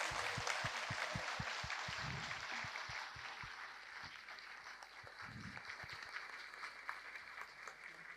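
An audience applauds to welcome a guest at a government launch of the Chief Minister's single-women self-employment scheme: steady, fairly distant clapping from many hands that carries on throughout, with faint voices underneath.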